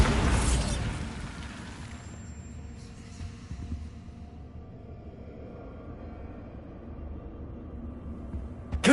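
The Bombarda spell in Hogwarts Legacy goes off as a sharp burst at the start, then fades into a quiet, rumbling tail, with another abrupt bang right at the end.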